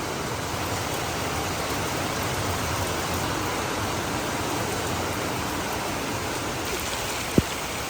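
Steady heavy rain pours down outdoors in Brunei, a dense, even hiss that holds constant throughout with no voices, broken only by one faint tap near the end.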